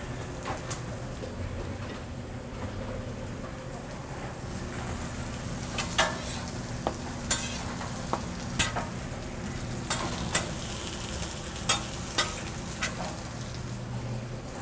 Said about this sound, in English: we're going to put that on the grill and get that grilling with a little bit of oil real quick